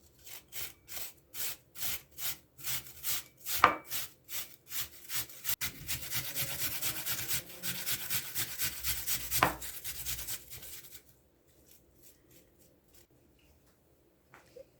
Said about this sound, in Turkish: Temizlemiş olduğumuz elmalarımızı şimdi rendeleyelim.